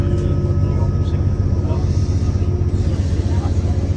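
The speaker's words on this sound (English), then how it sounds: "That's a Thameslink Great Northern service." A Thameslink Great Northern passenger train runs along the East Coast Main Line near the Emirates Stadium, producing a steady, loud rumble and roar that holds even throughout, with a voice speaking faintly beneath it.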